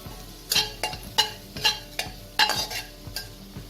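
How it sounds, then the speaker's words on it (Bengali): Chopped garlic fries in a pan for a vegetable quinoa pulao. A utensil stirs and scrapes it in a steady series of sharp clinks over a faint sizzle, close and with no voices. "রসুনটাকে আমি লাল করে ভাজবো।"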